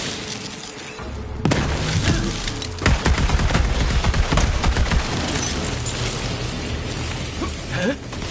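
A bomb blast in the shooter game Borderlands 3, set in a forest, erupts loudly after a quiet second, followed by a dense burst of crackling, shattering debris and rapid gunfire-like pops that keep rumbling on for several seconds.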